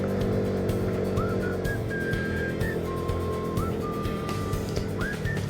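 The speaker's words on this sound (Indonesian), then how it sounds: "Buset, ini tinggi banget guys naiknya. Sampai ngeden Vespa si Bagong." A Vespa scooter's engine strains loudly and steadily while climbing a steep hill road, a close continuous drone with rising whining tones over constant wind and road noise.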